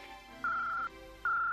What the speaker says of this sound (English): That's the secret Gadget phone.